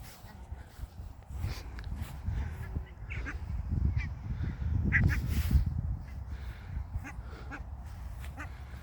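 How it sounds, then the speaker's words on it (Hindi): A flock of ducks of a new variety quacks repeatedly outdoors in mild sunny weather, with overlapping calls close by and a busy murmur of birds underneath. "ये नई किस्म की बत्तखें हैं"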